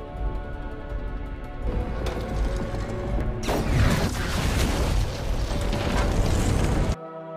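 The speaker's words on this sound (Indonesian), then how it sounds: "Dan satunya lagi tewas karena ledakan." An explosion in an action film about a former special forces soldier: mechanical clanks and creaks build before a sudden loud blast erupts into a sustained roaring, crackling burst that cuts off abruptly.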